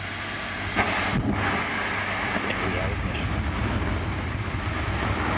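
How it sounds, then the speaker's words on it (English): A rocket lifts off in a broad, continuous roar that builds and holds, with a voice talking over it. "And we have liftoff."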